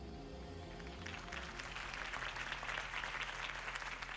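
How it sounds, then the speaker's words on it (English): Crowd applause in the video game Batman: the Point and Click Adventure swells in after a second and carries on at a moderate, even level, heard somewhat distantly through a low background hum. "could have heard that applause"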